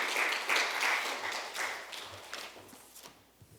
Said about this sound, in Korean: 우리 민 목사님 나오실 때 박수로 뜨겁게 환영해 주시기를 바랍니다